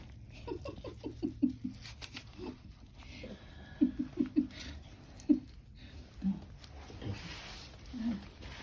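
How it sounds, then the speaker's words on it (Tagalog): A dog walks across ice outdoors on a winter morning, its paws making soft, irregular tapping and crunching steps in scattered clusters, fairly faint and close, with a low murmur of a voice in the background. "Lalakad na naman si Pogi sa yelo"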